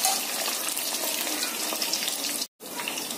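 Potato pieces fry in hot oil for a bell pepper and potato curry, giving a constant, dense hiss and crackle that cuts out for a moment near the end and then resumes.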